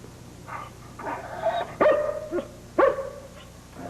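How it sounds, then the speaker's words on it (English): A dog barks indoors in a few sharp, mid-distance bursts with yips between them, rising over a quiet room with no talking. "It's a dog, ma'am."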